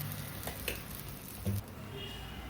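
Ghee or oil sizzling in the holes of a hot paddu pan, a steady crackling fry with a few louder pops and a brief scrape of a spoon, fairly quiet and close.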